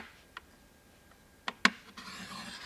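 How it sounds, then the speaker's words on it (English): A Scor-buddy scoring tool drawn across card stock to score lines a quarter inch apart: a few short, quiet scratchy strokes, the loudest two close together, over a faint room hiss. "I'm going to score lines a quarter of an inch apart"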